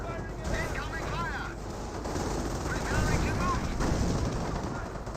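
Gunfire from a Company of Heroes World War II battle, continuous bursts of small-arms and machine-gun fire mixed with explosions, dense and steady throughout, with a voice talking over it.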